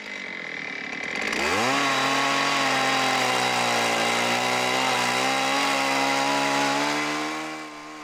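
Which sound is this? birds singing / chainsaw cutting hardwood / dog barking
chainsaw cutting hardwood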